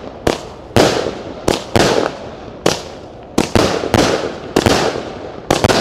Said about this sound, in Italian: iniziamo con la San 49 colpi alta, fonti pirotecnica